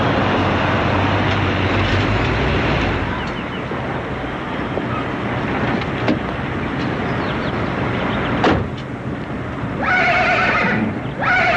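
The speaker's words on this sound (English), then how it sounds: "Did it come with that horse sound? No, I found a horn attachment with that." A loud horse neigh from a car horn attachment rings out over a constant rumbling, rattling background, with a drawn-out whinny near the end.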